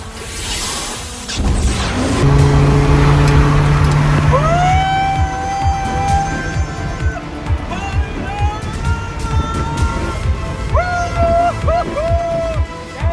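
A turbocharged car accelerates hard in a race, its engine climbing in loud, rising revs through several pulls, close and continuous with brief drops between gear changes.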